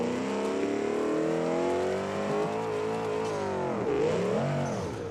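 An off-road car engine in BeamNG.Drive revs hard while carving through desert sand dunes, droning loud and close with rising and falling pitch and a sharp dip and recovery near the end. No one speaks.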